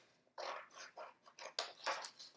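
Scissors cutting around a blobby circular shape in paper for a stencil, a run of soft, close snips at a steady rhythm, with no speech.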